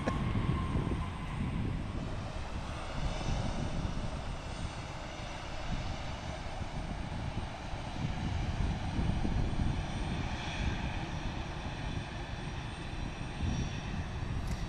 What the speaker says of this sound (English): It's United inbound on their 737-900 here landing.